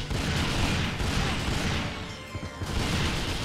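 Rapid pistol gunfire in the shooter game 007: NightFire, dense loud bursts of shots with crashing impacts running continuously under a busy game soundscape.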